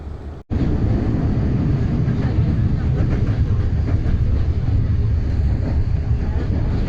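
A passenger train rolls on rails in Romania, heard from on board as a loud, continuous rumble and clatter after a brief break in the sound near the start.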